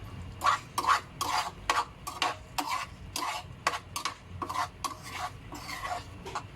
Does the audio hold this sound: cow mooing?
no